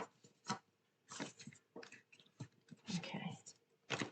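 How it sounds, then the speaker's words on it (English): A deck of oracle cards is shuffled during a tarot reading, heard as soft, close bursts of papery riffling and rustling separated by brief pauses in a quiet room. "That was a crappy shuffle. I'm going to do that again."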